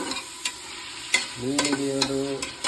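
A spoon stirs mushroom curry in a pan, giving a few scraping clinks over a soft sizzle, with a brief tonal squeak partway through.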